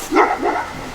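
A large guard dog on patrol outdoors lets out two quick, deep barks in a row. They are moderately close and loud, with no talking around them.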